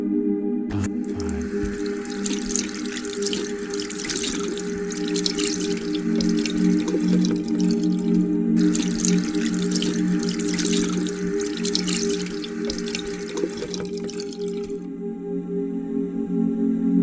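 Water poured for hand washing during a Good Friday Way of the Cross reenactment at a shrine: a steady, loud splashing rush that runs for many seconds, briefly breaks, then resumes and stops, with no talk.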